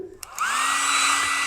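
A hair dryer sound effect starts with a couple of clicks, then the motor spins up into a steady, loud whirring hum with a high-pitched whine that holds to the end.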